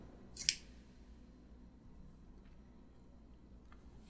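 Vintage all-metal scissors handled close up, with one short bright metallic snip or clack near the start followed by faint light clicks against a quiet background.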